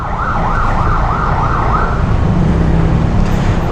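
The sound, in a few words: ambulance siren passing on the road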